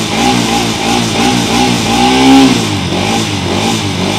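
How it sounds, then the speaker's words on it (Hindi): 2024 Bajaj Pulsar NS 200 motorcycle with an underbelly exhaust, heard up close as a steady, loud engine burble with a short rev swelling in the middle; no talking. "तो भाई एग्जॉस्ट साउंड की बारी आती है, जैसा कि आप देख लो अंडर वैली एग्जॉस्ट आता है"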